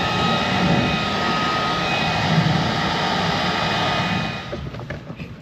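A boat's bilge pump runs as a steady, even whirring hum with a broad hiss, unchanging for several seconds before tapering off near the end, with faint clicks as it stops.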